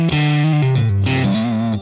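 Stratocaster electric guitar on its second pickup position with overdrive, a loud sustained distorted chord sequence ringing for nearly two seconds with slight changes between chords.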